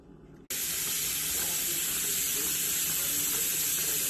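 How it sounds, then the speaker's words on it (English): Steam hisses steadily from a pressure canner while chicken is being canned, a sudden loud, continuous broadband rush that starts after a brief quiet moment and holds evenly. "there's a steady stream of steam sound coming from the thing here"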